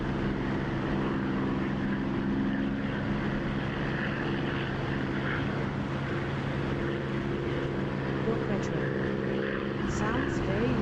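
Propeller aircraft engine in a flight simulator video game, a steady loud droning roar running throughout, with a voice talking over it.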